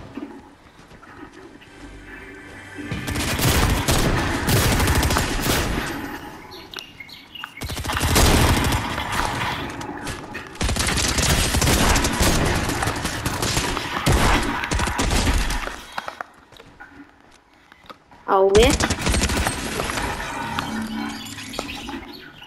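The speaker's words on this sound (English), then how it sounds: "He's trying to shoot me" Bursts of rapid video game gunfire, loud and close, come in several long volleys separated by short quiet gaps, with some clattering in between.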